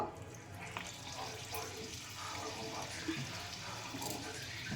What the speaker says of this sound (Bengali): এবারে আমি এগুলোকে একটা একটা করে ছেড়ে দেব, দিয়ে ভেজে নেব